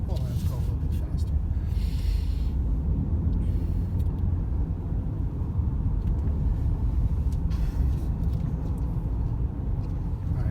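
A BMW on adaptive cruise control speeds up along a road, giving a loud, steady engine and road rumble from inside the cabin, with some speech faintly under it.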